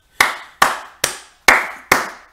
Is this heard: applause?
yes